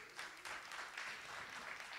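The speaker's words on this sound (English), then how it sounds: "Can you give them a round of applause, please?" Faint, distant audience applause at a school TEDx event, a short spell of soft scattered clapping with a few slightly louder bursts.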